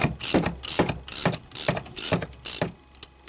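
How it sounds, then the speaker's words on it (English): Ratchet with a hex socket working on the front brake caliper bolts of an Opel or Vauxhall Vectra B, five or six quick bursts of rapid metallic clicking in a steady rhythm, close and loud, then a few faint clicks. "in at the back with the hex socket, start to loosen these bolts in here which hold the caliper in place"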